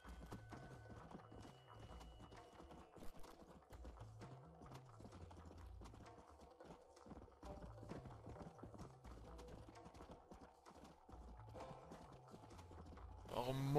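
Horse hooves from Red Dead Redemption: Undead Nightmare clip-clop in a steady trotting rhythm over a quiet background, with a soft musical hum; a brief louder noise at the end.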